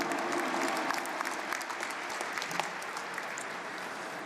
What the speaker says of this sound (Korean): 우리 다음 세대들에게 큰 박수로 격려해 주시면 감사하겠습니다